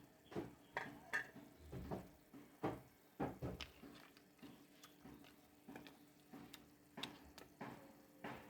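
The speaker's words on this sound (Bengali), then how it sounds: "এখন এই যে ডালা বড়িটা দিয়ে দিচ্ছি।" Lentil dumplings (bori) go into a vegetable curry frying with tomatoes, giving faint, close, irregular splashes and stirring scrapes over a soft sizzle.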